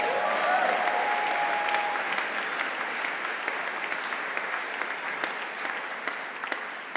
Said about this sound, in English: Yes, please clap that up